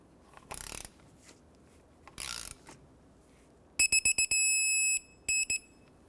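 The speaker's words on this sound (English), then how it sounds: "Let's torque this to 26 foot-pounds." A torque wrench tightens a brake caliper bolt on a 2000-2005 Ford Excursion, giving a few quick clicks and then a run of sharp metallic ratchet-like clicks and a longer click near the end, all fairly close and alone.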